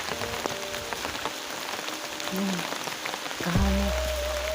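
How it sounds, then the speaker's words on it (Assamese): Steady light rain patters on a surface in the Karbi Anglong hills, a soft continuous hiss with a few scattered drops, and a low hum joins near the end. "অকণমান বৰষুণ পৰিছে"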